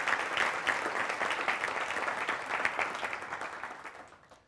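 Audience applause fills a City Club event with APA Ohio chapter attendees, a dense steady clapping from a full room that holds evenly, then fades out toward the end with no voices over it.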